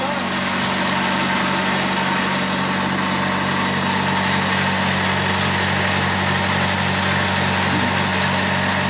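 An old road grader, pulled from the weeds after years of sitting, idles just after starting, a loud, steady engine rumble that holds unchanged throughout.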